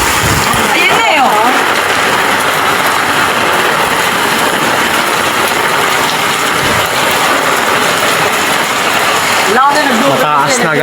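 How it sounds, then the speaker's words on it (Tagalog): A swollen, fast-flowing river roars loudly and continuously in heavy rain, a dense wash of rushing water and downpour close by, with someone talking briefly over it near the start and again near the end. "Mataas na guys. At napakabilis ng agos."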